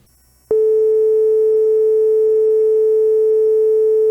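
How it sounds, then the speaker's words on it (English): A pure, steady sine wave tone from a DAC driven by a Teensy 4.1 starts abruptly after a brief silence and holds at constant pitch and loudness. "you should be able to hear a simple sine wave coming out of your DAC."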